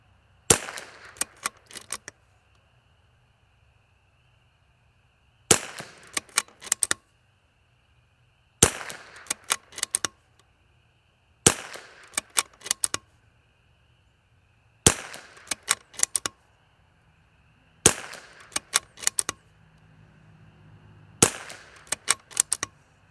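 Close, loud rimfire rifle shots fired with L3I Stinger ammunition during a 10-shot group, each sharp crack trailed by a quick flurry of clicks, recurring in regular bursts every few seconds with near silence in between.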